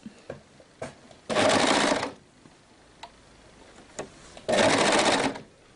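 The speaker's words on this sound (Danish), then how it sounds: "Så jeg starter med at sy lige over vores opbukkede sømmerum." Sewing machine stitching along the folded-up hem of a kimono sleeve, two loud bursts of rapid stitching close by, each under a second long, separated by quiet pauses with faint handling clicks.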